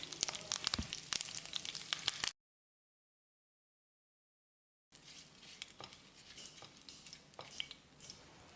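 Whole spices and curry leaves sizzle and crackle softly in sesame oil in a pan with small pops, cut by a silent gap before the gentle frying resumes.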